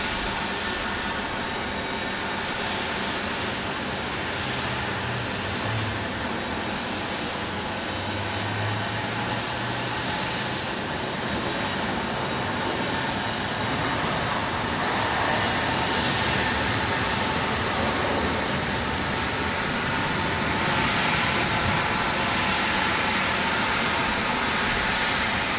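A Delta passenger jet from Seattle landing at Phoenix Sky Harbor airport, a loud broadband engine roar that holds steady and swells slightly toward the end, heard continuously without talk.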